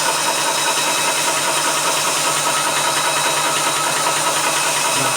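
A Vevor PCP 4500 PSI high-pressure air compressor runs steadily, a dense, continuous mechanical drone with a loud, even hiss throughout and no pauses.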